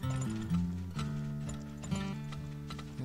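Horse hooves clip-clop in the oil-drilling game Turmoil, a steady close rhythm of light knocks over looping game music, with no talk.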